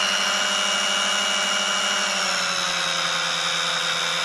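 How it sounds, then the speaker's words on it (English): Several electric drill motors, driven at about 18 volts and 2 amps from a high-amperage H-bridge controller, run together in a steady, loud, high-pitched whine, one tone dipping slightly in pitch partway through. "the drill motor slowed down a little bit"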